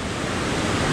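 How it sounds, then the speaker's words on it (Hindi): A river rushes steadily at Jhalong in the Dooars, with a tributary joining nearby, giving a dense, continuous roar of flowing water that stays loud and even throughout, with no voices. "शायद आप लोगों को नदी का आवाज़ सुनाई दे रहा होगा"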